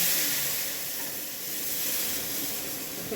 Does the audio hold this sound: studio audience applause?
no